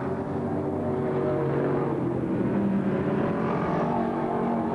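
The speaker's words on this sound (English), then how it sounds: "he has just lapped the entire field of late models, as Castleberry is all by himself in the lap" Late model race cars circle Lakeland Speedway in a 1988 short-track event, their engines a steady, moderately distant drone that swells slightly mid-way as cars pass, with no talk over it.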